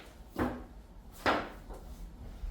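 A wooden wedge is set against a door beside a wooden block, giving two short, dull knocks of wood on wood close by, spaced about a second apart in a quiet room.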